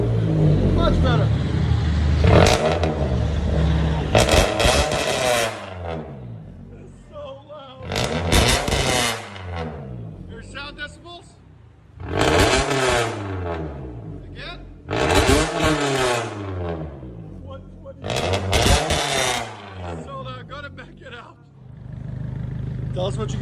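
A Scion tC 2.5L with its resonators, muffler and S-pipe cut off revs in five loud, raspy bursts, each climbing and falling back toward idle, close by and with no voices.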